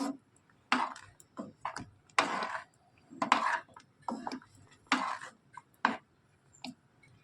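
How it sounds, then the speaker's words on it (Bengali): Spoon stirring semolina halwa with condensed milk in a metal pan, a steady series of separate scraping clinks at an uneven rhythm, close and clear over a quiet background. "এভাবে কিন্তু হালুয়াটাকে নাড়তে থাকতে হবে যতক্ষণ না হালুয়াটা রেডি হয়ে আসছে"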